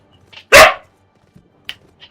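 A single loud, close dog bark, followed by faint rustling and small sounds in an otherwise quiet space.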